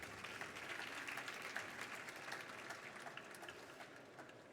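A conference audience gives sustained, even applause that sounds faint and distant throughout, tapering slightly at the end.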